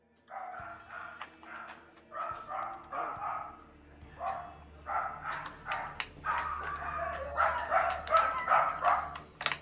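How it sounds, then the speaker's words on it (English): Repeated barking and yipping from dogs in the Terraria video game, a quick run of short barks that gets denser and louder toward the end, with no talk. "Those dogs are happy with each other."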